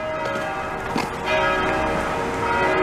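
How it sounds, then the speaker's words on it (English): Church bells ring steadily on a boulevard in Rosemont, Montreal, with sustained, overlapping tones and a shimmering hum of resonance, heard outdoors at a moderate distance without any talking. "but you got church bells"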